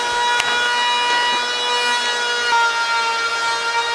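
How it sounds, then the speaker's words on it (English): A wood planer runs downstairs, heard as a steady, muffled hum carrying high tonal whine, with a sharp tick near the start and another small knock partway through. "That's a planer downstairs."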